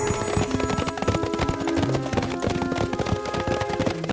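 Horse hooves clip-clop in a quick, busy rhythm as a race sound effect, close and fairly loud, with a tonal, music-like layer running underneath.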